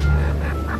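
A chicken gives two or three short clucks in quick succession over a steady low background hum, close by and fairly clear, with no talk.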